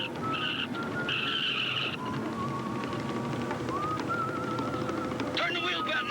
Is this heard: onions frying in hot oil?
no